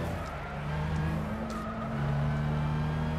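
Mazda RX-7 race cars in Gran Turismo 6 at Suzuka roar past with a steady droning engine note and some tire squeal, continuous and loud for the whole stretch.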